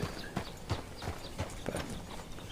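Horse hooves in Red Dead Redemption 2 clop in a steady, evenly spaced walking rhythm, close and fairly clear, with no talk over them.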